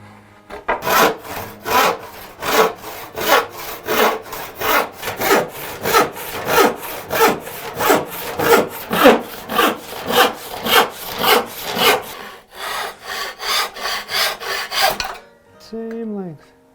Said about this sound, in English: I decided to go the method of cutting the groove in.